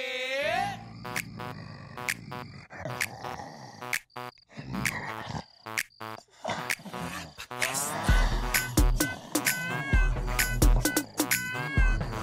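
A cat meows repeatedly in a TV serial scene, its calls rising and wavering over background music with a brief lull near the middle, growing louder and more insistent toward the end.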